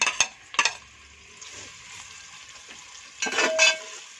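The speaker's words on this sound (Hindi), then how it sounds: "सीने में हमने ऑयल डाला 1 कप और हमने प्याज डाला 2 से 3 अदद प्याज डाले हम लोगों ने" Two to three onions fry in a cup of oil for a black pepper chicken karahi, a steady close sizzle broken by sharp clanks of a utensil stirring against the pan, with no talking.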